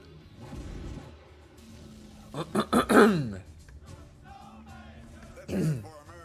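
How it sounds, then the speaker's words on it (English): A few sharp, throaty throat-clearing bursts close to the mic, a quick cluster in the middle and one more shortly after, between stretches of quiet. "I gotta clear my throat a little bit."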